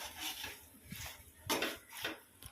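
Fried cauliflower for gobi manchurian is mixed in a pan with chopped coriander, a few soft clinks and scrapes of a spoon against the pan in short irregular strokes, close and fairly quiet.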